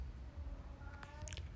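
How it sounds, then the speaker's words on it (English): A cat gives a single short, faint meow partway through, heard against quiet low background noise. "He's meowing."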